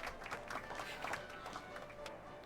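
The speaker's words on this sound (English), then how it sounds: "How about a round of applause just for the heck of it?" A burst of scattered clapping from a small crowd in the video game Back to the Future: The Game, moderately loud, continuing steadily throughout.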